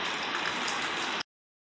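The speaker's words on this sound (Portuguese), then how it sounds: "Chuva, chuva, cachorro, água caindo, muita chuva." Heavy rain falls in a dense, steady hiss of drops striking surfaces, loud and close, then cuts off abruptly into silence.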